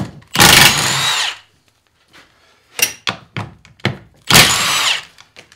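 An impact wrench fitted with an impact socket, used on the bolts of an NP231 transfer case, fires in two loud bursts of about a second each, separated by scattered thunks and clanks of the tool and parts.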